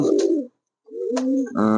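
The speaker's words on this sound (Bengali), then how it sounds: "দেখতে পাচ্ছেন পায়রা কতটা রেগে আছে কতটা খেপে আছে কত পাওয়ারফুল একটি পায়রা" A blue satin pigeon coos close up, giving two throaty rolling calls separated by a brief pause.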